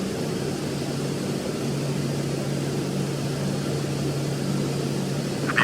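An airliner's engines spool up for takeoff in the FS2004 flight simulator game, a steady, loud, even roar with a low drone that holds without breaks throughout.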